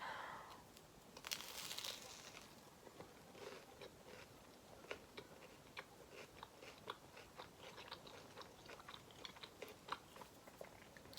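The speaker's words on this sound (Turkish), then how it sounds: "bir saniye ilk ısırığı alayım öncelikle" A first bite of breakfast followed by steady chewing, heard close up as crisp crunches and a run of soft, rhythmic mouth sounds with no talking.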